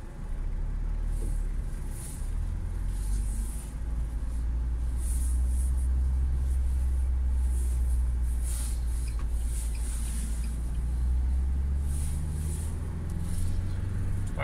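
A 2019 UAZ Patriot SUV cruises on a snowy road at about 90 km/h, its steady engine drone and road rumble heavy and constant from inside the cabin, with faint wind and tyre noise on top.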